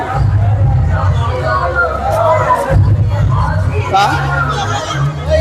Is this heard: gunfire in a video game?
no